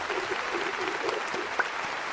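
An applause sound effect played during a brewery-themed podcast episode, a steady wash of clapping that runs throughout at moderate level, with a brief sharp click near the end.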